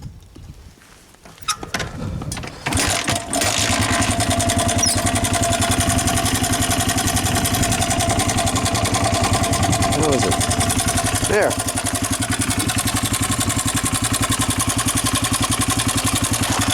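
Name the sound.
small motorcycle engine idling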